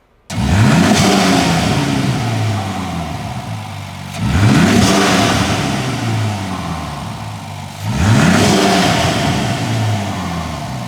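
Three strong revs of a Ram pickup truck engine fitted with an aFe Magnum FORCE Stage-2 air intake, each rising sharply then easing back to a rumbling idle, close and loud.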